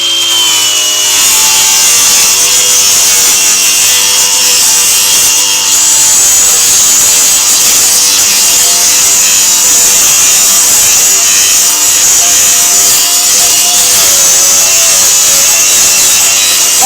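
A Marcrist pipe bevel cutter grinds into plastic drainage pipe with a loud, continuous rasping scrape, close and unbroken for the whole stretch.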